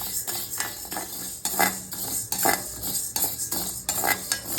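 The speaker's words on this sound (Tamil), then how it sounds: "இது நல்லா செவக்க வறுக்கணும்" Urad dal roasting dry in a pan for milagai podi, with a spoon scraping and stirring in steady, repeated strokes and faint grainy rattling, close and alone.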